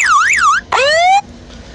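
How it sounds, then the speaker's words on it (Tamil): A phone anti-theft alarm app plays its tone loud and close: a fast electronic warble, a short gap, then a rising siren sweep that cuts off after about a second and a half. "இது மாதிரி அலாரம் டோன் வந்து நீங்கள் வச்சுக்கலாம்."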